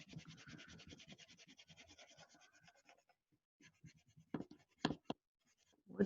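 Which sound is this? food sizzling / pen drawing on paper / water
pen drawing on paper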